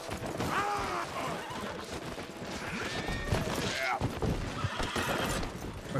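A horse whinnies several times with hoofbeats and clattering in Red Dead Redemption 2, amid chaotic game action with gunfire-like bursts, and people talk over it.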